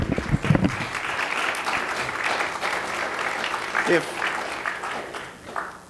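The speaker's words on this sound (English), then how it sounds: "You can clap for them." Moderate applause from a seated audience at a leadership day gathering, clapping for a committee, steady and fairly distant, with a few voices talking over it.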